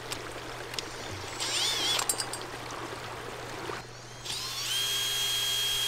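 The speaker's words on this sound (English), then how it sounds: "And here I am cutting the hole." A power drill cuts a hole in a plastic bucket for a prototype filtration system for a microhydro turbine, whining in short high-pitched bursts and revving at varying speed over a constant low background hum.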